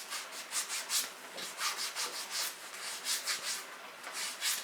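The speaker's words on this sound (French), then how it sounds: "Vous allez aussi gommer les orteils, hein, sans oublier les orteils." Rhythmic gritty rubbing of a foot scrub worked over toes and feet, soft and close, repeating in short strokes without speech.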